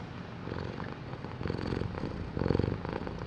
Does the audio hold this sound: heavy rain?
no